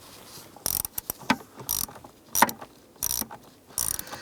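Screws on the blower motor resistor of a 1994-2004 Ford Mustang are tightened with a ratchet, giving quick rattling clicks in short bursts separated by brief pauses, close and fairly loud.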